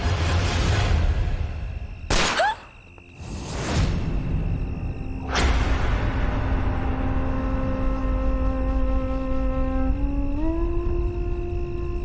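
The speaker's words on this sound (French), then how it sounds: "On aurait dit un coup de feu." Gunshots in a TV drama scene: two sharp, loud cracks close together followed by a third, each with a brief reverberant tail, then a sustained tonal drone that rises slightly near the end.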